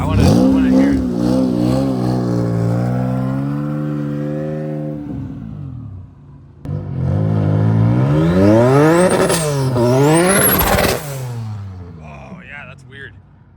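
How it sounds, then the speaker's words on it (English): A K-swapped VW Beetle engine revving and bouncing off a two-step style rev limiter, loud sweeping revs that rise, drop away, then surge again with rapid stuttering pitch swings, close by with people talking. "Like a baby rev limiter. It sounds like two-step."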